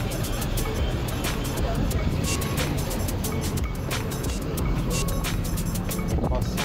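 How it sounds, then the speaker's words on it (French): Steady traffic on an Abidjan street, with cars passing continuously in a loud, dense wash of engine and road noise and a babble of voices in the background. "Il y a beaucoup de voitures ici."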